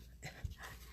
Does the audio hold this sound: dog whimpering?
yes